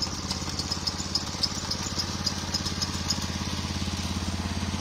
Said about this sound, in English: Tractor's coming up behind us, I think.